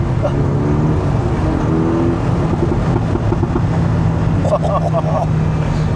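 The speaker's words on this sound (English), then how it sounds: "It sounds better than I was expecting, because I wasn't sure about having a 4-cylinder engine" A Morgan Plus Four's 4-cylinder engine drones steadily and close by, with a faint rise as it revs. Voices talk over the engine throughout.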